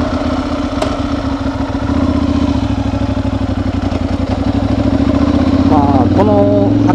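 A motorcycle engine runs steadily, idling and then pulling away with a rising rhythmic throb. It is close and loud, and someone speaks over it partway through.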